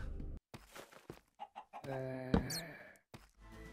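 Minecraft chicken clucking, a few close, loud clucks and squawks in short bursts among other game sounds, with talk around them.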